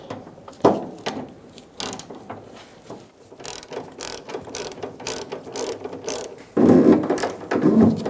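Ratchet with an extension and socket turning a fuel tank strap bolt on a 2002-2006 Toyota Camry gives repeated close clicking bursts of varying length, with a louder stretch near the end.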